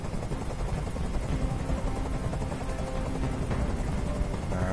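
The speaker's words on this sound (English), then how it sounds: "Tell that helicopter to get out of here!" Steady, loud helicopter rotor drone hovering overhead in the Detroit: Become Human video game, a continuous dense thrum with no break and no voices.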